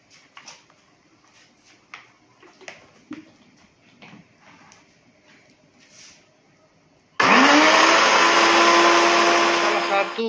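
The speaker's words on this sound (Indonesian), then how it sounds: "Ini kita blender nih." An electric blender loudly whirs through soto broth for a chicken-feet soto, starting abruptly after quiet kitchen sounds and running steady and strong to the end.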